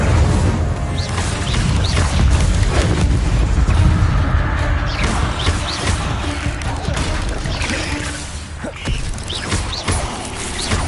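Incendio fire spell cast in Hogwarts Legacy, a dense roaring, crackling rush of flame with booming low rumble throughout, loud and sustained under faint background game noise.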